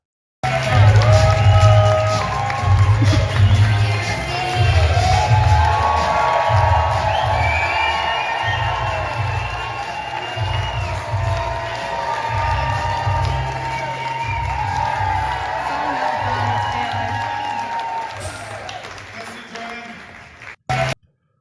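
A large crowd at a protest outside a Liberal Party campaign launch cheers, whoops and shouts loudly in a dense, sustained roar with scattered clapping, nearby voices rising over it before it cuts off.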